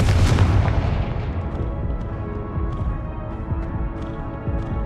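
A Confringo spell blasts in Hogwarts Legacy, a loud booming explosion that strikes at once and then rumbles and decays over several seconds with scattered crackles.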